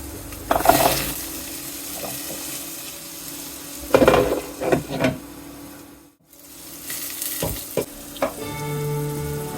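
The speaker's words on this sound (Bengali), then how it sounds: "একটু তেলে ভাজা হয়ে গেছে না কুমড়োগুলো?" Pumpkin pieces sizzle in hot oil in a home kitchen, a soft steady frying hiss broken by a few louder stirring and clattering bursts, with no talking.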